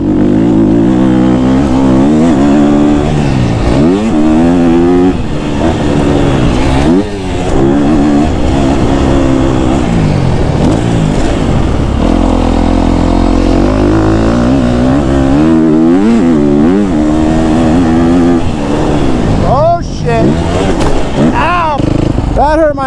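A KTM 250 SXF four-stroke dirt bike ridden through ruts, its engine revving up and down in rising and falling sweeps, loud and close with wind buffeting, a rider's voice occasionally over it.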